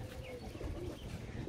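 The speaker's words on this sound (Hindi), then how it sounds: "ये देखे पिजन भी उड़ा है कबूतर" Pigeons coo softly in a low, murmuring rumble outdoors, faint and brief.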